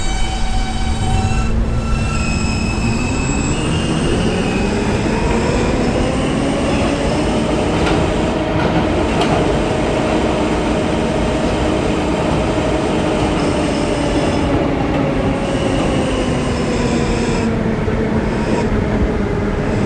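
A B subway train runs along the rails, a loud continuous rumble with a rising and falling motor whine, clicking wheels and occasional squeals, steady throughout.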